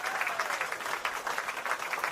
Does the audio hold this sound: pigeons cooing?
no